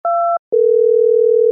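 A telephone line gives a short two-tone beep, then after a brief gap a loud steady continuous dial tone, clear and close with no other sound.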